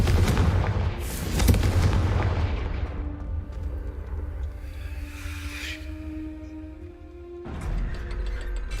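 Confringo fire spell blast in the Hogwarts Legacy video game: a loud booming impact and crash that trails into a fading rumble and ringing tones, then another burst of noise near the end.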